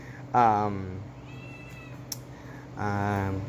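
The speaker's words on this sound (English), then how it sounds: "for you guys, I got a cat." A cat meows twice, close and fairly loud, with a short pause between the calls and faint background noise.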